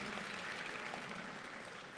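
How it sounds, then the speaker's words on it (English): Applause fills a community Onam celebration gathering for an active volunteer, a steady wash of clapping from a crowd heard somewhat distantly and softly throughout. "can we give him a big round of applause"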